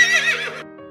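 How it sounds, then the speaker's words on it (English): A horse gives a single short, bright whinny that stops sharply at about half a second and leaves a faint ringing tail. "H is for horse."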